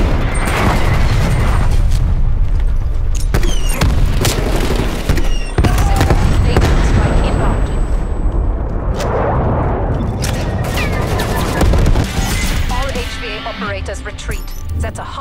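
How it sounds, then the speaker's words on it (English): Incoming artillery barrage in Call of Duty Black Ops Cold War, loud booming blasts and debris clatter stacked densely across the whole stretch, with game voice callouts and metallic clinks mixed in. "Artillery targeting detected. Net call. Incoming artillery."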